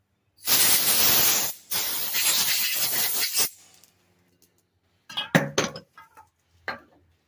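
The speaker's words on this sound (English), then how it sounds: "let me blow that out with the blower" Compressed air blasting through a Cub Cadet push mower carburetor in two long loud hissing bursts, followed by light metallic clinks and taps of small parts being handled.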